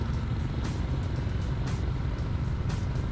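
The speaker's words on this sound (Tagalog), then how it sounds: "sobrang traffic dito, look" Heavy road traffic in Dubai makes a dense, steady hum of many vehicles, with occasional louder swells as cars pass nearby.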